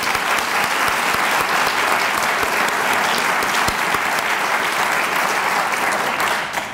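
A full room of luncheon guests applauds scholarship students, continuous thick clapping at an even level that carries through and only begins to thin at the very end.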